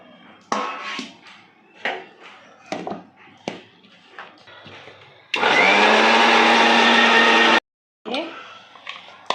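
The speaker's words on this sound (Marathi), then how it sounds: "पालक बॉईल केलेला आहे, मिक्सरमधून त्याची पेस्ट करून घेऊ" A mixer grinder whirs loudly for about two seconds as it blends boiled spinach into paste, cutting off abruptly; before it, someone speaks between scattered kitchen clatter, and she resumes talking afterward.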